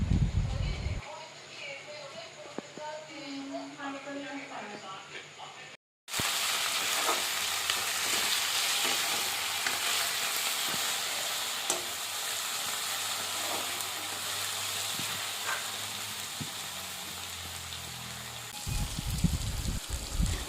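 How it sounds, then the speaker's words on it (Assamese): Loud, steady sizzling of fish frying in hot oil fills most of the clip, after a brief quieter stretch with faint kitchen sounds. "মাছখিনিও ফ্ৰাই কৰি ল'লোঁ"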